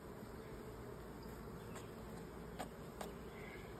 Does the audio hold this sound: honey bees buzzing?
yes